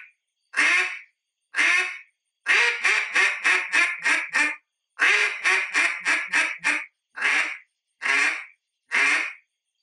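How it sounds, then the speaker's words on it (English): A duck call blows a rhythmic series of loud, nasal quacks in short bursts, a basic greeting call, some single, some in quick runs of five or six, with clear gaps between. "I'm going to teach you guys how to do just a basic 3 to 5 quack greeting call"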